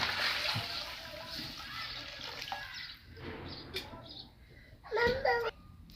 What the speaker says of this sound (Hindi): तो मैं अब इसमें ना ये गुड़ वाला जो पानी है वो डाल दूँगी।